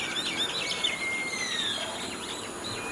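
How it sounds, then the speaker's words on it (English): A crowd of birds sings and chirps outdoors, with long whistled notes and rapid twitters layered over a soft steady background hum, no voices present. "Many birds are there."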